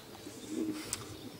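A single soft coo from a racing pigeon at a loft in Toruń, faint and low against quiet background ambience, with a brief higher chirp-like sound just after.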